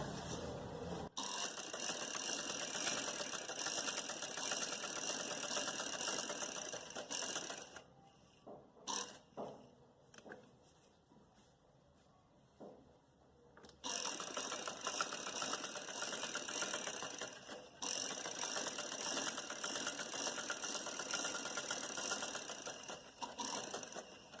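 An electric sewing machine runs in long continuous bursts while stitching a button placket neckline, a steady close mechanical whir that stops for a few seconds of quiet handling before resuming.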